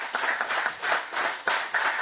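Audience applause at an inauguration function at the Chamber of Commerce in Panjim, Goa: a dense, steady wash of many hands clapping, loud and close, swelling in a few waves over two seconds with no talk.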